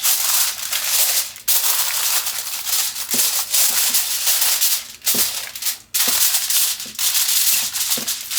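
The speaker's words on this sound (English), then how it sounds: "What we're going to do is take some aluminum foil and cover these." Aluminum foil crinkles and rustles close by as it is pulled and pressed over a cabbage roll casserole dish, with loud bursts broken by brief pauses.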